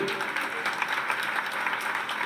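A crowd at a religious Hanuman Chalisa katha gathering claps continuously to welcome a swami, a dense, even patter of many hands heard at moderate distance.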